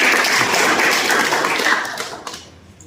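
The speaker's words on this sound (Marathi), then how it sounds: "टाळ्या झाल्या पाहिजे" Audience applause at a health check-up camp for people with disabilities in Khamgaon, a dense patter of many hands clapping together, steady and fairly loud before thinning out and fading near the end.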